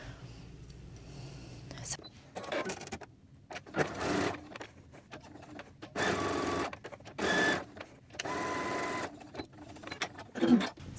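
A sewing machine stitches a logo tag onto a quilted tote bag in several bursts of steady mechanical whirring, each lasting about a second, with brief pauses between runs.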